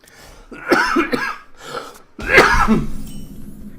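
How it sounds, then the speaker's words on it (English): Several harsh, close coughs in two bursts, with throat-clearing rasps from someone still recovering from illness, loud and near. "Try not to cough into the mic."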